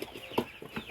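Short clucks from a chicken, a few soft calls with one louder cluck near the middle, close by against a quiet background.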